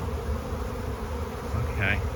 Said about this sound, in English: To have a stationary swarm surround you is a magical thing that you just can't imagine